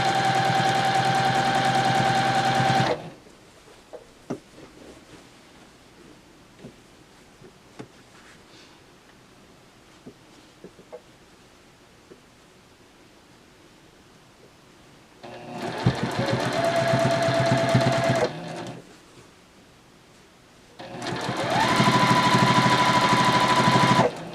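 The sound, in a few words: sewing machine sewing crochet blanket binding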